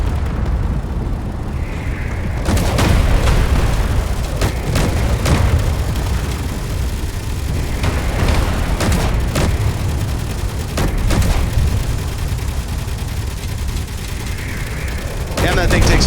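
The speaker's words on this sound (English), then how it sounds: "And it's missiles." Missile explosions in the Space Engineers video game, a series of loud booming blasts and bursts over a constant rumbling background, clustered in several volleys with brief gaps between them.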